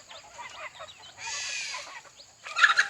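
Several young fighting chickens (gamecocks) cluck and chirp softly nearby, with a louder burst of clucking at the end.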